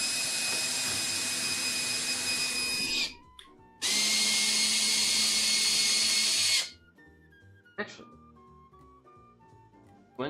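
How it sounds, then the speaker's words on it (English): Two sustained runs of a high-pitched power drill boring a hole, close and loud, followed by a few brief knocks and handling sounds. "I'm gonna go ahead and re-drill a hole here"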